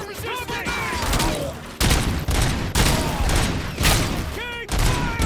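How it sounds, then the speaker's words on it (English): Rapid bursts of gunfire in the RoboCop: Rogue City video game during a bank robbery shootout. Loud, close volleys come in repeated clusters separated by brief gaps, with shouted voices mixed in. "Keep firing! Keep firing!"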